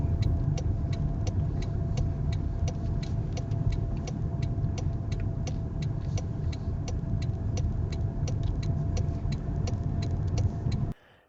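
A traffic school car driving toward a motorway, heard from inside as a steady engine and road hum with a regular ticking, likely the turn indicator, running evenly until it cuts off at the end.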